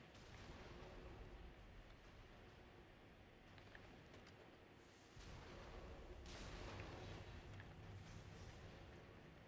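Cannons fire on a battlefield in the video game Nioh, as steady, muffled, low rumbling booms over a continuous roar of combat ambience, heard faintly with no talk.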